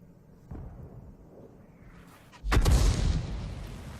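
A World of Tanks tank gun fires, a heavy booming blast that breaks in suddenly and rolls on with a broad rumble, preceded by a quieter thud and low battle ambience.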